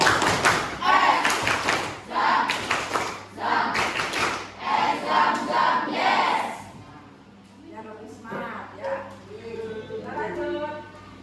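A class of students performs a rhythmic school clap in a classroom, with a run of sharp, evenly spaced clap bursts over about six seconds, mixed with voices, followed by quieter talk.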